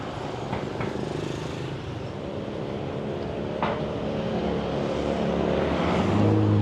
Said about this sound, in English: Go back against the traffic so that we can see some cars coming.